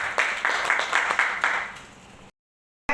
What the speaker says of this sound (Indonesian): Tepukan untuk L-Carnitine Global.